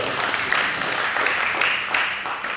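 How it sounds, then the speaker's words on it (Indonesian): A congregation applauds steadily at a joint Easter church service, a continuous wash of hand claps that holds fairly even from start to end, with a faint voice mixed in. "Oh, beri tepuk tangan dulu yang berbiasa."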